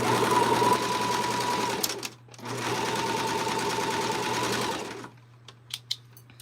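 A sewing machine set up with twin needles, presser foot removed, runs in two steady, loud bursts of stitching broken by a short pause, then stops with a few small clicks.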